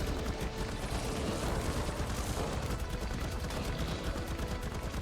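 Sustained gunfire from a video game set in ARK Survival Evolved's Fjordur map, a dense continuous rattle of rapid shots throughout, loud and steady with no talk.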